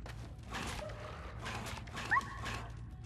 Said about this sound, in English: I see dogs in there.